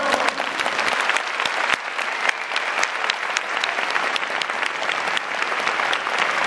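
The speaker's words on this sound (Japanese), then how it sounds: "その思いを込めて中島選手にもう一度拍手よろしくお願いします" A baseball stadium crowd applauds during a catcher's retirement ceremony for the Hokkaido Nippon-Ham Fighters, sustained dense clapping with crisp individual claps standing out over the wash of the large audience.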